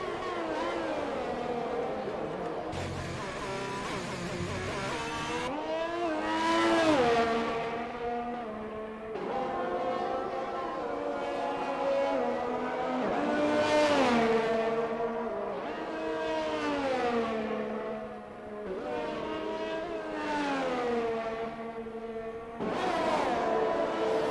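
A race car in Need for Speed screams through a hot lap, its loud engine whine rising through each gear and dropping at every shift in a steady, repeating pattern with no talking.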